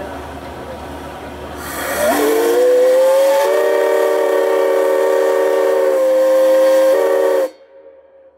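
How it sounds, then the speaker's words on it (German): The paddle steamer Goethe on the Middle Rhine sounds its steam whistle, a loud sustained hooting chord that opens with a hiss, holds for several seconds with slight pitch shifts, then cuts off abruptly. "Und hier hören wir einmal den typischen Klang der Goethe."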